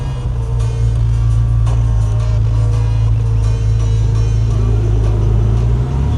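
A C8 Corvette Z06 rumbles with a deep, steady exhaust drone heard from inside the car, loud and continuous with faint crackling burbles on top.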